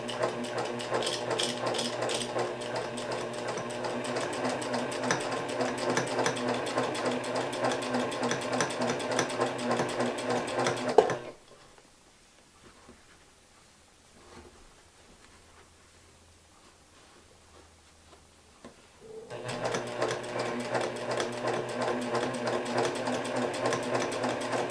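Sewing machine stitching down quilt binding, running loud and steady for about eleven seconds, stopping for a quiet pause, then starting up again and running to the end.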